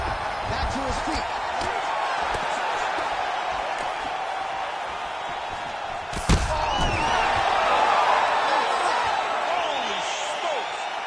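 A large crowd at a fight event roars and cheers in a steady wash of noise, with a sharp impact near the middle and the cheering swelling louder afterward.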